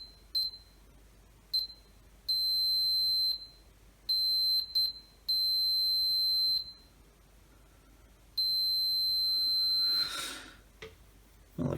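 A multimeter on continuity mode beeps in a series of short and longer high tones while its probes check the cable of a Milwaukee M18 Trueview LED flood light, followed by a brief rustle near the end.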